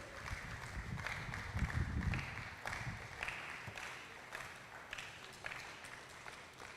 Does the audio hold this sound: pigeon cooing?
no